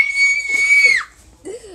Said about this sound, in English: Are you screaming in your mic?